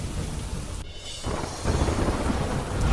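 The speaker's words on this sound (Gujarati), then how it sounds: "સ્ટેશન, વાવડી સહિતના વિસ્તારમાં પણ ધોધમાર વરસાદ." Heavy rain hisses steadily while a deep rumble of thunder rolls underneath, with a brief lull before the downpour surges louder again.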